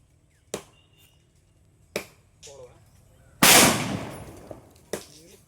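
Firecracker bombs bursting outdoors: several sharp, separate cracks spaced a second or so apart, then one much louder blast with a lingering rumble, followed by another crack, with brief voices between.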